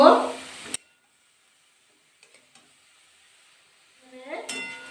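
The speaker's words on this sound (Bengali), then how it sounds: "এবার বাঁধাকপির মধ্যে অ্যাড করে দেবো স্বাদ বুঝে লবণ পরিমাণ বুঝে হলুদ এবার ভালো করে মিশিয়ে নেব" Cabbage tossed with salt and turmeric in a pan gives a brief burst of scraping and sizzling, then near silence with a few faint taps, before the stirring and sizzle return toward the end.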